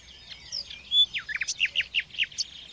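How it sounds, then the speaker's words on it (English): A nightingale sings in a quiet, undisturbed cork forest, giving a fairly faint run of whistles followed by a rapid series of sharp repeated chirps, with no other sounds. "In Britain, you seldom hear nightingales singing after dawn."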